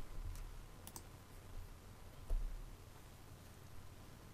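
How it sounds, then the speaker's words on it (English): Keys tapped on a computer keyboard while a plugin name goes into a search box, a few soft scattered clicks spread over a few seconds with one slightly stronger tap near the middle, faint and close against quiet background hiss. "So in the search box, we'll type in WP Teacher."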